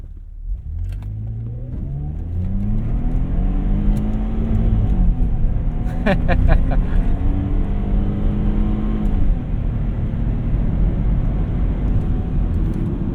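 Saab 9-3 Aero XWD sedan pulling hard at full throttle in manual mode, engine note climbing through rising harmonics with a gear change midway, steady loud cabin sound throughout.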